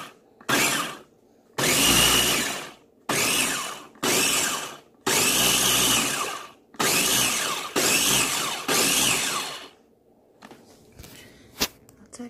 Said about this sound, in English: put my ninja top there and just pulse it until it gets to the consistency I think I want